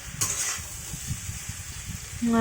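Paneer, chickpea and potato curry sautés in a pan as a low sizzle, with soft stirring and scraping close by and a short clink of metal near the end.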